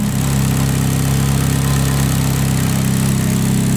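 A Ferrari F430 engine idling with a misfire, a close, loud, continuous low rumble that holds steady throughout with no voices over it.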